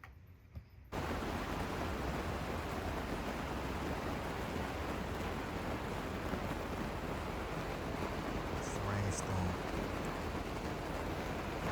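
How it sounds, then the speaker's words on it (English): Hard rain falls at night in the Colombian countryside, a loud, unbroken roar of dense downpour that starts abruptly after a quiet moment and holds steady to the end. "It's raining hard."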